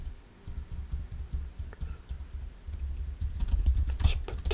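Computer keyboard keys, Shift, Option and arrow keys, pressed in a quick irregular series of soft clicks while selecting text in a code editor, close and fairly quiet, building to a denser burst of taps near the end.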